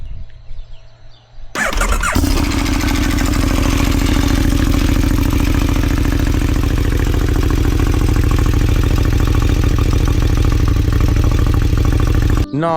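KTM 1290 Duke motorcycle with an Austin Racing exhaust, baffle removed, cold-starting after a near-silent moment, then idling loud and steady with a deep, even rumble for about ten seconds before cutting off.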